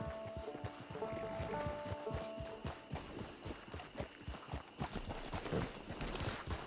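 Horse hooves clip-clop in Red Dead Redemption 2, a quick steady rhythm of close, crisp hoofbeats walking then trotting, with faint tonal game sounds early on.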